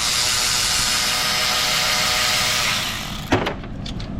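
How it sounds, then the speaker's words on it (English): An air-powered impact tool whirs loudly and steadily as it backs perimeter bolts out of an engine front cover, then stops, followed by a sharp metallic clack and a few light taps. "Okay, we're yanking perimeter bolts out."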